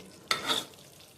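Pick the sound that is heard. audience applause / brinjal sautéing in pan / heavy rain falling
brinjal sautéing in pan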